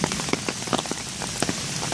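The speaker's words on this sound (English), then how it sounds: "It's raining." Steady rain patters on surfaces outdoors on a rural property, a dense close hiss with scattered sharper drops striking throughout, no voices.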